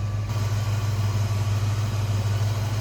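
A 1966 Ford Mustang convertible with a stock 289 V8 idles smoothly, a steady, even low rumble with a regular pulse, close and continuous throughout.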